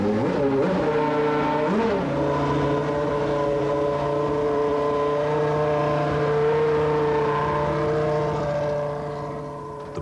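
A Stewart Formula One race car runs at Silverstone, its engine holding a loud, steady high-pitched drone for about ten seconds, with a brief rev change near the start and a slight fade at the end.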